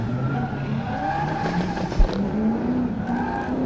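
A Nissan S15 drift car slides through a drift competition run, its engine note rising and falling in steady harmonics over a continuous roar of tire noise, with a brief thump partway through.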